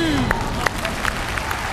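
A studio audience at a televised dating show applauds, giving a moderate wash of scattered claps with a few sharper hand strikes, while a voice speaks over it.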